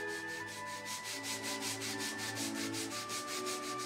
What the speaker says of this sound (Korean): 건조시켜서 이제 사포로 문질러다 보면 그 라인이 살고